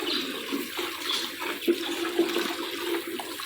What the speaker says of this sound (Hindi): अब हम साफ पानी से धो के डाल रहे हैं।